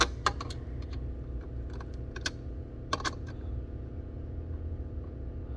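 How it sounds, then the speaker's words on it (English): A screwdriver tightening the screw on a Lateral Thruster 2.0 during installation gives a handful of small, sharp clicks in short bursts over a low steady rumble. "tighten with the screwdriver"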